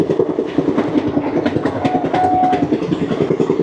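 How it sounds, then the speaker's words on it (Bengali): Paharia Express rolls through Eklakhi Junction, heard from on board: loud, steady clickety-clack of wheels over rail joints with continuous rumble and a brief faint whistle-like tone midway. "আমাদের ট্রেন পার করলো একলাখি জংশন।"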